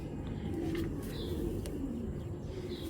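Racing pigeons, including a chick, coo softly in a short repeated murmuring pattern against a steady low background hum; the calls are faint and fairly distant, with no voices.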